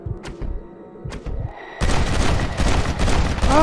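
Gunfire erupts in Red Dead Redemption, a dense burst of loud shots that starts abruptly after a few quieter thumps and keeps crackling without a pause.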